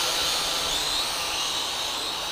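A Feilun RC helicopter runs at near full throttle outdoors, its rotor and small motor giving a steady, close, high-pitched whine and whoosh that holds constant for a couple of seconds without any voices.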